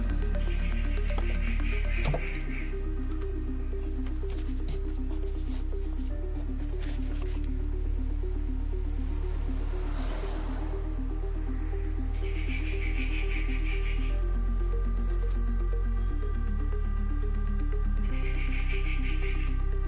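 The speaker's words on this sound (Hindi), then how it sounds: "तो चलिए पहले रिफ़िल करते हैं अपनी इस बोतल को" Diesel poured into a spray bottle while cleaning a tractor, a continuous trickling and gurgling fill over a steady low background hum, with occasional hissy bursts, no voices.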